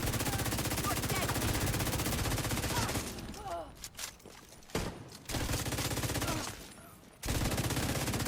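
Pestilence machine gun in The Division 2 firing in long sustained bursts, loud and close, with brief pauses between volleys and game effects beneath.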